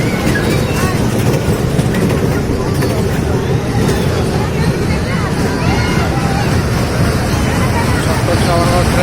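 A small ride train at a Mina Bazar fair rumbles and clatters continuously nearby, blended into dense crowd babble and fairground noise with no break.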